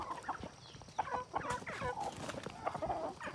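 Chickens in a backyard coop cluck and chatter in short, irregular calls close by, several birds overlapping, fairly quiet with no speech.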